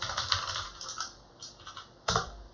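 Keystrokes on a computer keyboard as a find command is typed for a root flag search on an Android device, a quick irregular run of close clicks with short pauses and one louder burst near the end.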